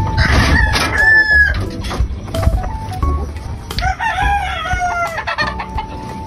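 A rooster crows loudly and close by, its call rising and falling, while hens cluck and shuffle around it.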